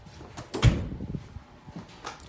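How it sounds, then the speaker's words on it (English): A door is pushed shut indoors with a clear thump near the start, followed by a few softer knocks and rattles and then quiet handling noise. "I gotta shut the door"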